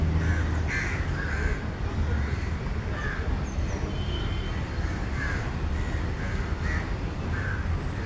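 Several crows caw repeatedly in a small garden on a sunny morning, harsh calls spaced every second or so over a constant low background rumble.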